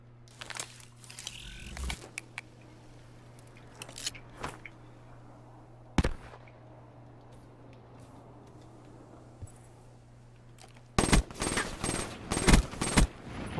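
Call of Duty Black Ops 3 gunfire in a one-on-one search-and-destroy match: a few isolated sharp shots early, then a loud cluster of rapid bursts near the end over a steady background hum.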